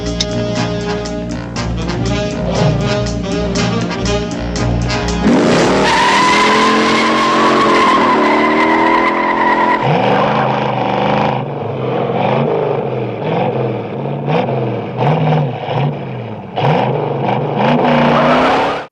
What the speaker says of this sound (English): the driving, of course, the literally 10-minute car chase